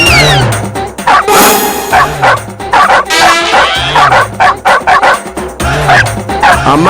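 A man imitates a dog with his voice, giving repeated loud yelping barks and whimpers in quick bursts, close to the listener, with other people's voices mixed in.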